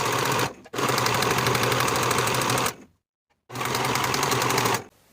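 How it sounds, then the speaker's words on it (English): A serger overlocking the raw bottom-curve edge of a blouse facing piece runs in two loud, steady bursts of fast, even stitching, separated by a short pause and a longer silent gap. "Now I'm going to take this attached facing piece to my serger and finish the raw edges along the bottom"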